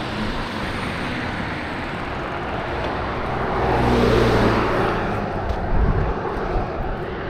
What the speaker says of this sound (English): So the sounds of traffic will block out the noise.